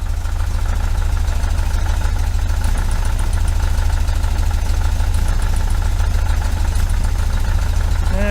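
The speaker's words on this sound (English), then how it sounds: "idle's picking up." A 1973 VW Super Beetle engine fitted with Dellorto FRD 34B carburetors idles with a steady, throbbing low rumble, loud and close throughout, with no voices.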